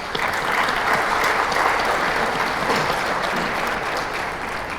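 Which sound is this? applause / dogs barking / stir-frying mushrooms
applause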